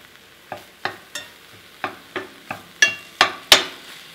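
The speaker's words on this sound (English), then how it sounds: "Make sure your skillet's nice and warm. You're just gonna wanna brown up your meat." Pork sausage browning in a warm skillet on a wood stove, with a steady low sizzle broken by about nine sharp scraping and stirring strokes, growing louder toward the end.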